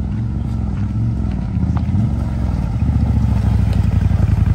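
A Gen 2 CFMOTO ZFORCE 950 Sport UTV on a trail ride, its engine a loud, close, steady rumble with clattering and rattling from the machine over the rough ground.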